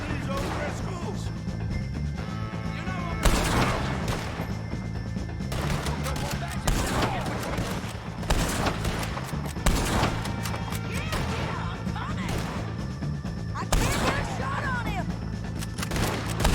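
Gunfire fills a Red Dead Redemption 2 shootout against O'Driscoll gang members: loud, repeated shots and volleys crack out, with several heavy bursts spaced across the scene, plus background game sounds.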